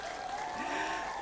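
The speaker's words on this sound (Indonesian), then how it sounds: "Beri tepuk tangan yang meriah sekali lagi" A crowd at a school event for SMP Negeri 1 Lebong Utara gives a brief, steady burst of applause, with a sustained tone and a faint rising whistle running through the clapping.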